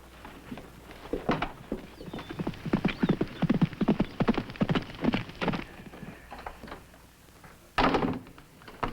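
Horse hooves clip-clop in a steady, fairly close rhythm for about six seconds, then fade, followed by a single loud thunk near the end, with no voices.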